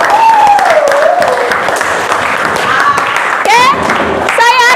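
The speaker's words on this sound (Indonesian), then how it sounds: "Tepuk tangan buat kita semua yang hebat." A classroom of students applauds together at the end of a school lesson, a loud, dense wash of clapping that runs the whole stretch, with a teacher's voice and excited voices rising over it.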